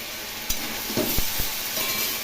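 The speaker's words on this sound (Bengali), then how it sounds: "লো ফ্লেমে বারবার করে নেড়ে নেড়ে একটু ভাজা ভাজা করে নেব মশলা এবং সবজিগুলো" Spices and vegetables fry in a pan over a low flame with ginger, turmeric, cumin and coriander powder, a soft sizzle beneath a few sharp scraping knocks as the mixture is stirred.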